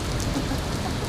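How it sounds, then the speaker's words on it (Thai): Steady rain pours down during a storm at a zoo in America, a dense, even hiss of drops close by with no voices. "ตอนนี้นะคะเราก็ติดฝนอยู่นี่ค่ะยังไปไหนไม่ได้"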